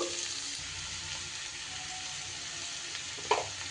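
Snake gourd stir-fries in a pan, a steady low hiss of sizzling oil with one brief clatter near the end, fairly quiet and close.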